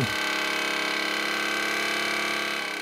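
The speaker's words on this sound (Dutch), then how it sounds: "Dat trillen van een damwand klinkt ongeveer zo." A loud, steady mechanical buzzing hum of a vibratory driver driving steel sheet piles, constant and dense throughout with a rapid rattling pulse.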